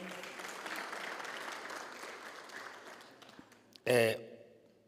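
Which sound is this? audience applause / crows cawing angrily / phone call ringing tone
audience applause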